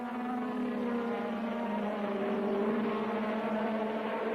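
Formula One racing cars accelerating out of the grandstand corner at the Austrian Grand Prix, a sustained, steady high engine whine with strong harmonics, heard alone without talk.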